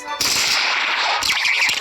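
Dual flintlock pistols fire in the Roblox game Blox Fruits: two sharp, loud digital gunshots in quick succession, each ringing with a metallic tail, alone without talk.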